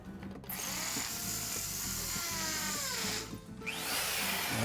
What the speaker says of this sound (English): let's go ahead and drill this one